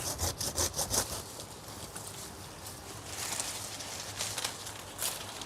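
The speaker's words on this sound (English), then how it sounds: "sawing it as near to the base as I possibly can" A hand saw rasps through a tree trunk near its base in quick back-and-forth strokes, fast at first, then slower and more uneven, close by with no talking, in a garden.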